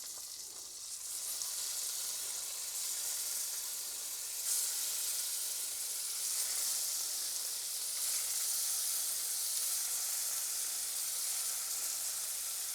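Scallops fry steadily in a hot pan of oil and butter, giving an even, close sizzle and hiss that continues without pause.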